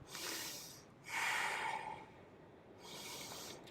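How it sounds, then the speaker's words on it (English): Slow, deep breaths held in a yoga plank pose, each long airy inhale and exhale close and audible in a quiet room, with no talking. "Let's breathe in for 3 breaths here."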